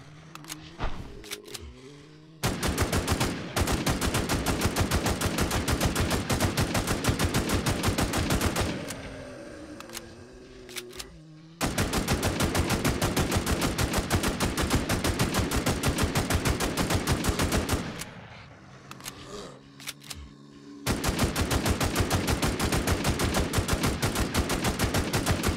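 Rapid automatic gunfire from a boss fight in the shooter game Infestation, with long sustained bursts broken by short pauses, loud and continuous with no talking.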